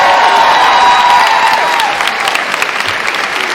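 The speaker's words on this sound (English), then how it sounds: "Give another round of applause for Ryan." A school audience gives a student a loud, sustained round of applause for his Super Mario Bros speedrun, with dense clapping that fills the space and eases slightly toward the end.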